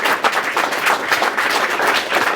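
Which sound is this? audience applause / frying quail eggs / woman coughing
audience applause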